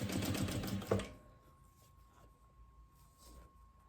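Sewing machine stitching a makeup bag seam with a half-centimetre allowance, a loud dense rapid whir for about a second that cuts off abruptly, leaving a quiet steady hum.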